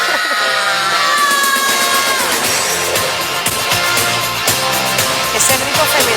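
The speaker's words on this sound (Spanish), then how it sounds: "Ese grito femenino." A woman's loud scream rings out over a full, dense rock track with driving guitars and drums, the shriek riding on top of the music for several seconds.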